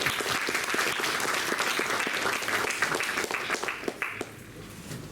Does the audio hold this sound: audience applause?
yes